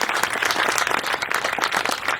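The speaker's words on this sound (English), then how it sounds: "let's give a round of applause for our parks and for that process" An audience claps steadily, a dense and even burst of applause.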